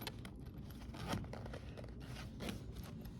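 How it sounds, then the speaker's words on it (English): A zipper on a crossbody bag being pulled shut, a quiet scratchy rasp with faint rustling of fabric close by. "We're going to close our zipper."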